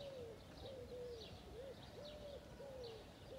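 A juvenile bato-bato dove that was hand-fed gives a series of faint, soft coos in short repeated phrases against a quiet background.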